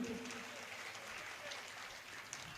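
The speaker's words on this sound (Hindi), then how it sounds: "मैं 4 पंक्तियां जरा सुरेश जी को भी समर्पित कर दूं, यदि आप सबकी तालियां मुझे मिले तो।" Audience applause at a Hindi poetry recital, a faint, steady patter of clapping from a seated crowd held at an even level throughout, no talking over it.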